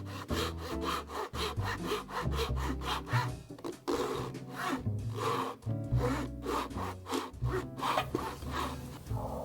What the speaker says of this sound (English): So by sawing with this, that's going to minimize any splintering